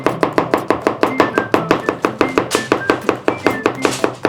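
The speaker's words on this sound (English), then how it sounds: "today I'm going to chop it" A knife chopping garlic on a cutting board in a steady, quick rhythm of close, crisp taps, about four to five strikes per second, with no talking.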